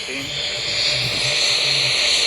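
Sound suppression water pours across the Artemis rocket launch pad as a steady, broad rushing hiss, continuous and slowly swelling in loudness, with faint voices murmuring beneath it.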